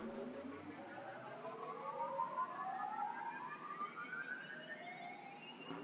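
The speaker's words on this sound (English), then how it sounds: "we have this called a chunky riser, and it's essentially just this big wobbling, warping, ascending piece." A big chunky synth riser wobbles and warps as it climbs steadily upward, several bright layered tones gliding higher over a dense, loud wash, sounding alone without voices.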